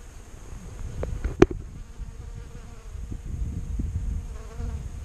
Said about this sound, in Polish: Ile tu pszczół?